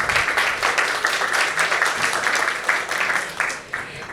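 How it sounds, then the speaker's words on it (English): Audience applause at a Nordic Battery Collaboration Day event, greeting the battery team: dense, steady clapping from a room of people lasting the full few seconds, thinning slightly toward the end. "give them a big applause because they've been doing great work"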